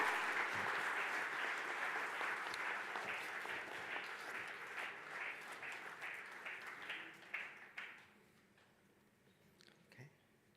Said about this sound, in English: please welcome him with a big round of applause